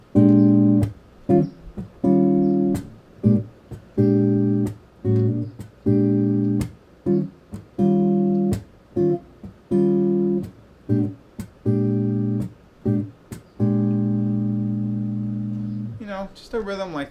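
Guitar chords strummed in a Charleston rhythm for jazz timing practice, short choppy stabs in a repeating long-short pattern, clear and close, with a final chord left to ring out.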